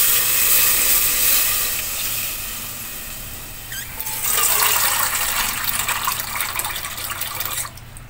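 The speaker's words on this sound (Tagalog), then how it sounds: "Lagyan na natin ng tubig." Water gushes and splashes steadily into a cooking pot, a broad rushing pour that swells midway and cuts off near the end; no talking.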